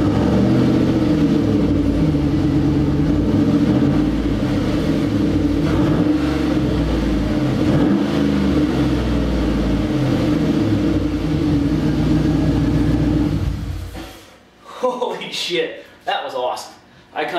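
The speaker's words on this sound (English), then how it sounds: "if you don't start your truck at this point with just a catalytic converter on" A 2011 GMC Sierra truck engine runs loud and raw with only a catalytic converter and no exhaust, a rough steady roar with uneven revs, then shuts off into quieter sounds.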